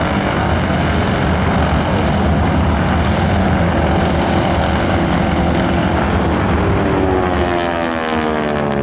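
Round-engine aerobatic aircraft at the Wings Over Waukesha air show: a loud, continuous propeller drone and engine rumble fills the air, holding steady before the pitch starts sweeping as the plane passes.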